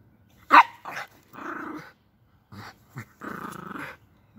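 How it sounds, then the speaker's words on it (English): A dog growls and snarls in short playful bursts while mock-biting, close and fairly loud, with brief gaps between the growls. "Savage dog, savage dog."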